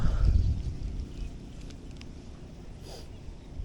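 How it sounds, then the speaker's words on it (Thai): Strong wind gusting across a fishing pond as rain arrives, a steady low rumble of buffeting against the microphone, loudest at first and then easing to a continuous roar. "ลมแรงแล้ว ฝนมาแล้ว"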